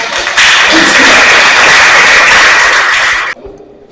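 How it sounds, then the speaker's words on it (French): Loud burst of audience applause welcoming a speaker at a women's leadership training session, a dense wash of clapping lasting about three seconds before cutting off abruptly. "Sous applaudissements, mesdames et messieurs, Kalis Mikala."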